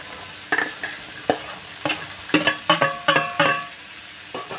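Chopped ridge gourd (gilki) stirred in a hot pan, with a series of irregular scraping and clattering strokes of the spoon over a soft sizzle, close and fairly loud.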